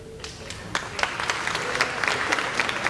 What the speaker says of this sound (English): if you want to hold all applause to the very end